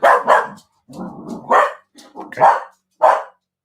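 Dog barking in a series of loud, close barks in an uneven rhythm, with a brief word of talk at the start.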